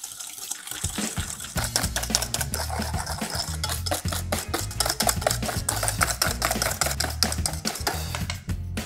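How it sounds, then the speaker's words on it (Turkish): Sugar and egg yolks being whisked together for homemade donut dough, a steady rhythmic ticking of whisk against bowl, close and fairly quiet, continuing without pause. "Şimdi şeker ve yumurta sarısı böyle açık renk olana kadar ve şeker eriyene kadar güzelce çırpacağız."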